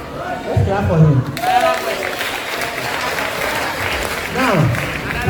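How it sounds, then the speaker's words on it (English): Audience applause at a Holy Trinity Cathedral Senior High School tourism club event for the school tourism ambassador, steady clapping throughout with voices and cheers mixed in. "Let's clap for him."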